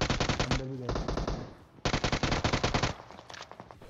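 Rapid bursts of UMP45 submachine gun fire in the PUBG battle royale video game, loud and close, two long volleys separated by a short pause, with a brief voice in between.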